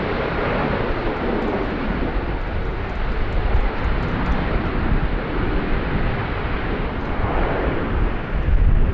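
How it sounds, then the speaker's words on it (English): A Velocity jet arriving from Melbourne touches down at Sydney Airport, a broad continuous roar of engines and rushing air that holds steady and swells near the end, with no voices. "World-class touchdown there from Velocity from Melbourne."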